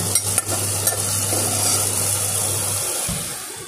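Vegetables stirred in a pan of hot oil tempered with cumin and bay leaf, giving a steady close sizzle and a few clanks of a spatula, with a low hum under it that stops near the end.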